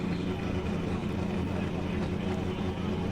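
Drift car engine idling and revving at the start line at Ebisu in Japan, a continuous low, rumbling drone with a commentator's voice over it.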